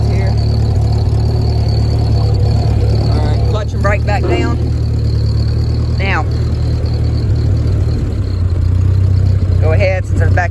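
A 1946 Ford 2N tractor engine idles steadily in reverse, a constant low mechanical drone running through the whole stretch, with a few brief squeaks or voice-like bursts over it.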